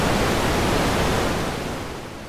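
The Airwindows DarkNoise plugin generates algorithmic dark noise: a steady, dense, rumbling broadband hiss like distant surf or a waterfall. It fills the whole stretch alone and eases slightly quieter toward the end.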